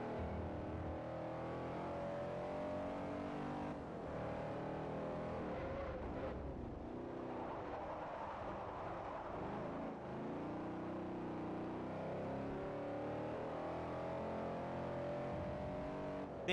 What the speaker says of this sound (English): then I hear the roar of the engine